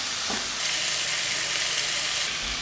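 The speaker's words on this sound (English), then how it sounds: "Make sure you keep squashing the sausage and the sage leaves down and browning it on all sides." Sausage, onion and sage leaves fry and brown in a pan with a steady, dense sizzle that holds close and loud throughout, with no talking.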